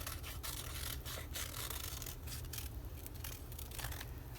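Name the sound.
scissors cutting paper for a collage book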